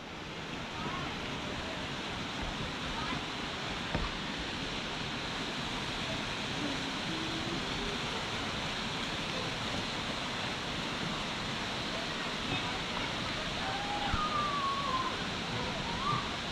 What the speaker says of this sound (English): Oh, look at the waterfall.